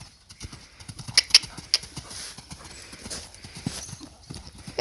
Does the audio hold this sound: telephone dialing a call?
no